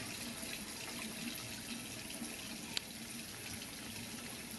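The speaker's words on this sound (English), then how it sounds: "I'm going to rinse a little bit of water onto the cap" Steady tap water running and splashing onto a highlighting cap at a salon sink, a continuous close rushing flow with one brief knock partway through.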